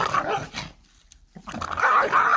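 A puppy growls in two short bursts separated by a brief pause, close and fairly loud.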